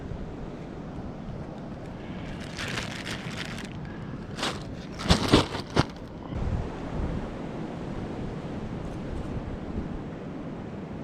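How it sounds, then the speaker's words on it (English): Steady wind rushes and gusts through woods, with a few louder bursts of buffeting noise midway before settling back to a constant blustery roar. "Pretty windy day in the woods."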